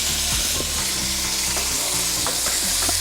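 Chili and salt are stirred into a hot pan while chicken biryani is being made, giving a loud, constant sizzle of frying with repeated scraping and clattering strokes of a spoon against the pan.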